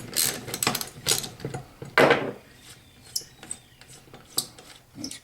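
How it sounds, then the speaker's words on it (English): GM alternator bracket bolts loosened with a ratchet, several quick bursts of sharp clicking ratchet strokes with pauses between, close and crisp, with a few lighter metallic taps afterward. "loosen up and remove these 4 bolts around the corners here"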